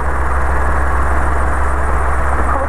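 Guimbal Cabri 2 helicopter piston engine held at about 2000 rpm, a loud, steady low throbbing drone with constant pulsing rumble, close and unbroken, no speech.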